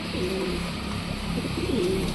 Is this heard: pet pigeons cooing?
yes